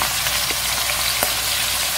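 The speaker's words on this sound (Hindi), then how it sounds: "देखिए चिकन अच्छे से फ्राई हो गया" Chicken legs frying in hot oil give a steady, dense crackling sizzle throughout, with a couple of brief louder pops and no voices.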